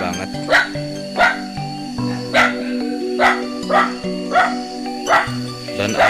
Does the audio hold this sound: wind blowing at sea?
no